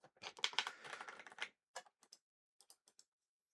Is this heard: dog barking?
no